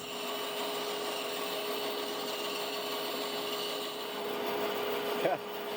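A bandsaw fitted with a 3/4 inch blade cuts a small section off a wooden body, giving a steady, loud whirring drone with a faint constant whine throughout and a brief knock near the end.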